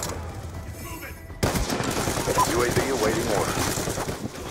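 LMG machine gun fire in a video game breaks out abruptly after a quiet start and keeps going as dense, continuous rattling bursts through to the end, with a voice talking over it.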